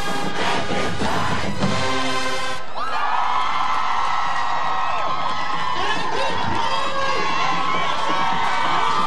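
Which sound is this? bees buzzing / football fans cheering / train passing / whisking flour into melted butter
football fans cheering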